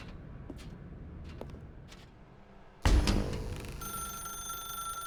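A telephone rings in The Stanley Parable video game, a sudden loud burst starting near the three-second mark after quiet ambience, followed by sustained bright ringing tones that continue to the end.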